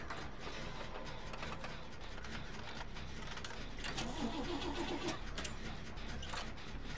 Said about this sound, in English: Generators don't sound like they're starting up.